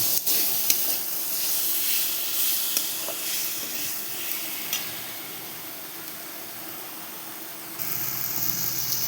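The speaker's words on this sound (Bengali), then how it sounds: "এবার আমি টমেটোগুলো দিয়ে দেবো। টমেটো দিয়ে ভালো করে কষে নেব।" Tomatoes being fried and stirred in hot oil in a pan for a vegetarian raw-banana kofta curry, giving a steady close sizzle and hiss with occasional scrapes of stirring throughout.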